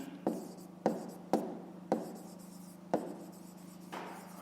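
A pen writing on paper during a fifth-grade maths exercise, in short scratchy strokes with several sharp taps of the pen on the page, close up over a low steady hum.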